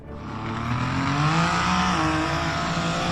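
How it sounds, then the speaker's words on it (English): A blue SUV on an off-road hill climb revs hard, its engine climbing in pitch and holding a loud, sustained roar close by. "The blue SUV performed a spectacular acceleration, and this was the result"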